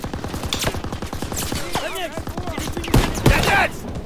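Rapid machine-gun fire and scattered shots crackle in a wartime video game battle against a machine gun nest, dense bursts with a couple of louder, closer blasts near the end, with brief voices mixed in.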